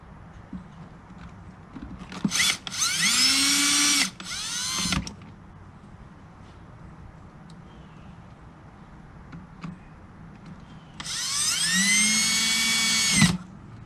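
Power drill drives screws back into a 2002 Subaru WRX during a JDM conversion, with two close high-pitched whirring runs, the first about two seconds long and interrupted, then a longer run ending in a sharp stop, with quiet handling noise between.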